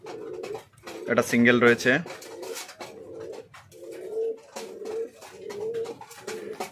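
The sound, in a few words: fancy pigeons cooing in a loft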